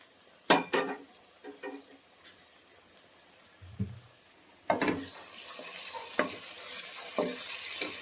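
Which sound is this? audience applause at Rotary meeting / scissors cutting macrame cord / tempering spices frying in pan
tempering spices frying in pan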